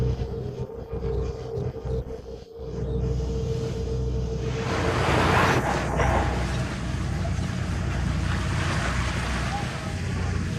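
Rough, choppy sea under a darkening sky heard from a whale-watching boat: a steady wash of waves and water against the hull with gusting wind noise buffeting the microphone, growing louder midway.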